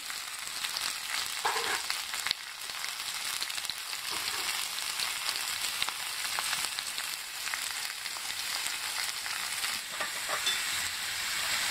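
Vegetables and split green chillies fry in a pan for veg dum biryani, with a steady, continuous sizzle and occasional stirring clinks, no voices.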